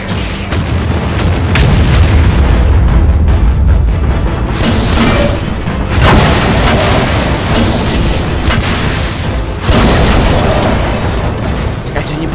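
Cartoon Gustav railway gun firing heavy shells, deep booming blasts with rumbling tails over dense battle noise, loud and close, with speech mixed in.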